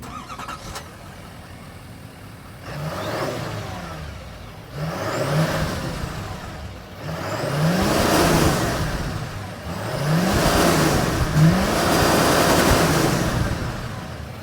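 A 2024 Chevrolet Silverado 2500 ZR2 Bison's 6.6-liter turbo diesel V8 starting and revving repeatedly, deep diesel rumble rising in several swelling revs with turbo whine, heard close with no talking.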